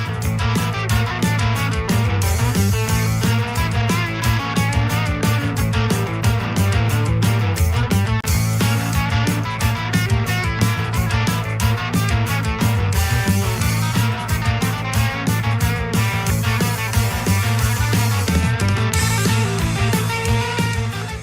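Loud, dense math rock from a masked duo from Saguenay, Quebec fills the whole stretch, with busy drums and intricate interlocking guitar and bass lines, all instrumental.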